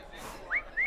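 Two short rising whistles from a person, each a quick upward swoop, sounding close and fairly loud over a faint background murmur.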